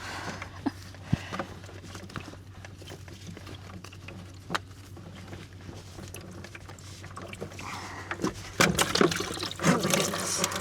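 Water drains from a whole-house water filter housing holding a carbon filter, a steady trickle and patter against a low hum that swells into a louder splashing gush near the end.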